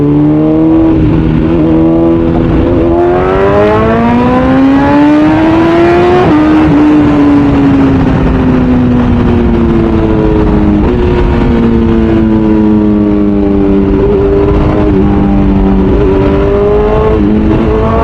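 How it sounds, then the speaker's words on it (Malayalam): An engine revs hard and climbs through the gears in traffic, the pitch sweeping up and dropping sharply at each quickshifter change without clutch use, loud and close and continuous with no talk. "ക്ലച്ച് യൂസ് ചെയ്യാണ്ട് തന്നെ നമുക്ക് ഗിയർ അപ്പും ഡൗണും ചെയ്യാം."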